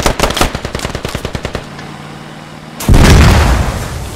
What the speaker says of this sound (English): That was a friendly Vic, by the way, that just exploded.